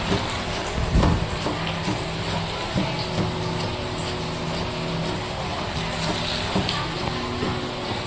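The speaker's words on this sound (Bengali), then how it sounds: "এই দেখো তেলের মধ্যে ছেড়ে দিয়েছে পনিরটাকে" Paneer pieces fry in hot oil with a steady, dense sizzle that runs throughout, joined by a few louder bumps and clatters nearby, and a voice speaks over it.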